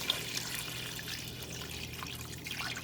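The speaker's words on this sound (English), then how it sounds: "Now I'm adding my water" Water pouring into a pot holding turkey wings and chopped onion, a steady close trickle lasting the whole stretch.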